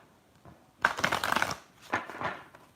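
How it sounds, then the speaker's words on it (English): Reading cards being shuffled close by, two bursts of quick riffling flutter, the first longer and louder, the second shorter, with no talk. "I'm just shuffling my cards"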